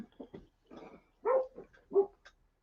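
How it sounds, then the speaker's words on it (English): A dog barks in several short, muffled bursts at moderate distance, wanting to come inside, with brief pauses between the yips and no talking. "I hear my lover dog barking to come in"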